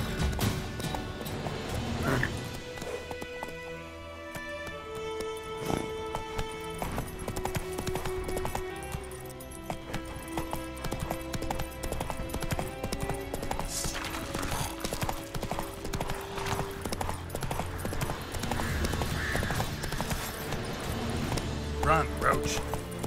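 Galloping hooves of the horse Roach in the video game The Witcher 3: Wild Hunt, a fast steady clip-clop running throughout, with game music and sound effects layered over it and brief spoken commands.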